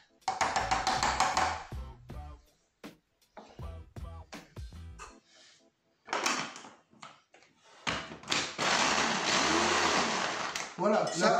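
A blender blending shrimp bisque ingredients runs in short pulses and then a longer continuous whirr, with clattering kitchen noises and brief gaps between.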